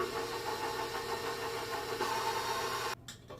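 An electric stand mixer on a low setting churns calamansi pie filling with condensed milk in a steady, pulsing motor hum with a rhythmic beat, then cuts off abruptly near the end, leaving quieter clatter.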